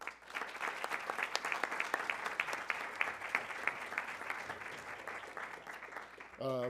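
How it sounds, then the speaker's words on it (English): An audience at a congressional caucus launch event applauds the moderator with sparse, distinct claps at moderate volume, fairly close, ending with a brief voice at the very end. "let's give him a round of applause"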